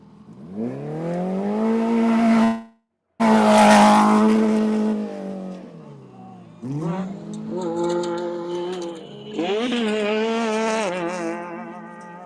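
Rally cars at the 2025 Abu Dhabi Desert Challenge prologue roar past one after another, each engine note climbing and falling, loud and close with brief gaps between cars.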